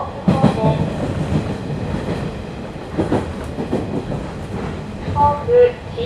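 Inside a 115 series train car on the Sanyo Main Line, wheels clatter and rumble in rhythmic clicks as the train runs, with brief squealing tones near the end and no clear voices.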